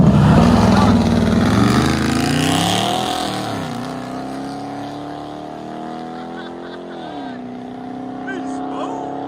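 Car exhaust fitted with true dual 6-inch tips roars loudly up close, a strong revving burst that settles into a steady droning tone before rising slightly again.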